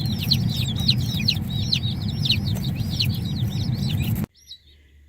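Baby chicks just collected for a farm chirp in a dense, continuous chorus of high peeping over a low rumble of engine or road noise, cutting off abruptly near the end with a lone faint peep.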